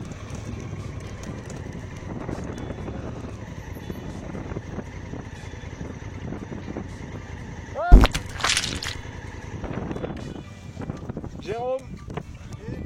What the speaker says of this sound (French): Une bonne grosse flaque de boue, histoire de bien rincer la moto avant de finir la journée.